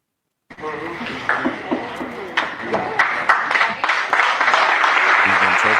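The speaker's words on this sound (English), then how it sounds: "We're clapping him on." A crowd applauds to welcome a player on at an NFL training camp, steady clapping building and holding over several seconds with voices mixed in beneath it.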